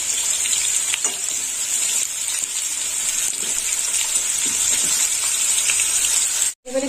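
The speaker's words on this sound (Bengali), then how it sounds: "লবণ একটু পরে দেবো, আলুটা একটু ভাজা হোক।" Potatoes fry in a pan for a Bengali ridge gourd and potato dish, giving a steady close sizzle with faint stirring scrapes throughout, broken by a short pause near the end.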